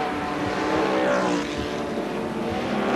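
Sports sedan race cars at Lakeside Raceway in 1981 accelerating at full throttle up through the gears, a dense, loud engine roar with rising pitch sweeps throughout, no talk over it.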